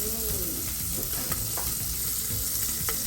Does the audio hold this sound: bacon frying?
yes